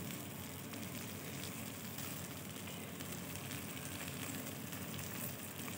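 Fish frying in a pan sizzles with a steady, dense crackle that runs unbroken throughout, moderately close and quiet, with no talk over it.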